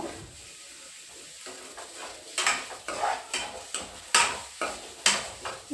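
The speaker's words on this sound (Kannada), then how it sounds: "ಒಂದು ನಿಮಿಷ ಫ್ರೈ ಮಾಡಬೇಕು ಇವಾಗ ಕ್ಯಾಪ್ಸಿಕಮ್ ಹಾಕೋತಾ ಇದ್ದೀನಿ" Capsicum and carrot frying in a pan for palak rice, a soft sizzle under a run of rhythmic spoon strokes and scrapes against the pan, close and fairly loud.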